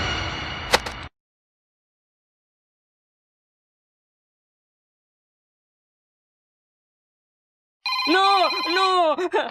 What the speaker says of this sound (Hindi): ये कोई भूत थोड़ी है, फोन की घंटी है